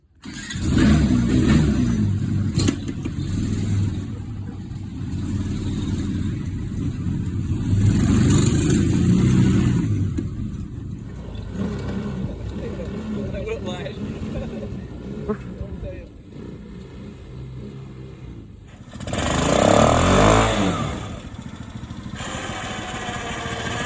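A mini Jeep's small engine cranks, catches and runs with a steady mid-pitched drone, then revs up sharply near the end; people talk over the engine throughout.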